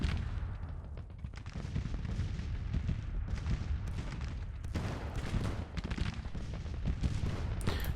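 Snipers keep up a steady crackle of rifle fire across a Civil War battlefield in Grand Tactician, many overlapping shots, some distant and some nearer, in a dense, continuous barrage.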